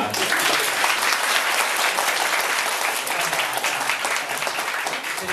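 Continuous audience applause fills a lecture hall, a dense, even patter of many hands clapping at steady loudness from start to finish.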